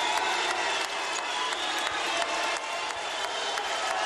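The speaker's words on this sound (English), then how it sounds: "The whiteout, sold out, SIU Arena, the crowd into it." A sold-out, whiteout crowd at SIU Arena roars and cheers steadily through a tense college basketball game, Southern Illinois against Wichita State, with applause and clapping blended into a dense, continuous wash of noise.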